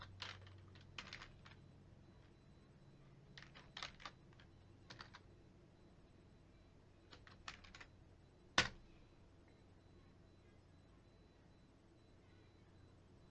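Quiet clicks of typing on a computer keyboard come in short, scattered bursts, with one sharper keystroke standing out near the end.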